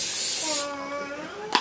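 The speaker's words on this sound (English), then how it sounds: "you gotta spray the pan" Cooking spray hisses onto a tiny toy oven pan in a short, loud burst lasting about half a second, followed by quieter background tones and a brief click at the end.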